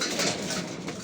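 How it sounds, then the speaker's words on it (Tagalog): A returned pet pigeon wearing a leg band coos softly up close, a brief low murmuring call over faint background noise, with no talking. "So nagulat ako bakit sino tong ibon na to"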